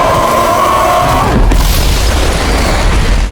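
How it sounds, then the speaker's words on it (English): A loud, deep explosion booms with a sharp burst and rolls into a long rumbling roar that fills the space, heard at the moment Crackstone is destroyed in a Wednesday fantasy scene. "With an explosion, Crackstone vanished completely."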